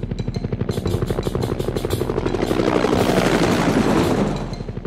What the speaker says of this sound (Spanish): Miren cómo vuela el helicóptero.